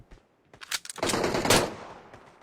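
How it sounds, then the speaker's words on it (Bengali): Bursts of rapid automatic gunfire from the mobile battle royale game PUBG Mobile, loud and close, with a dense volley in the middle fading into a decaying tail. "আবে হেডশট হইলে কি একটা সাউন্ড হয় ভাই?"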